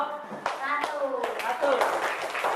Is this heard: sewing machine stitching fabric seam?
no